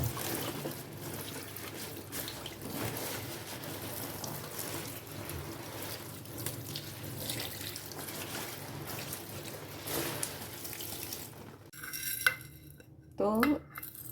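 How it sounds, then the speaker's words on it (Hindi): Leaves are washed one at a time in water: a soft, steady swish and trickle with faint clinks of a pot or dish, fairly quiet throughout, then sharper scraping knocks near the end. "एक एक पत्ता करके धुलना पड़ता है।"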